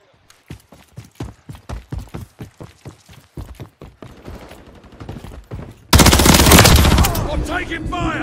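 Gunfire in the Modern Warfare 3 video game on the Estate map: a rapid string of sharp single shots settles into a quicker rattling burst, then gives way to a loud, sustained blast of noise.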